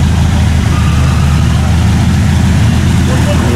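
A Soviet GAZ-63 off-road truck fitted with an engine twice as powerful as its original runs at a steady, loud, low idle-like drone, the deep engine hum continuous and close throughout.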